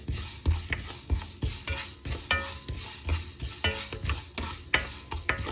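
Dry seeds rattle and scrape in a pan as they are stirred, with rhythmic scraping strokes and a faint sizzle throughout.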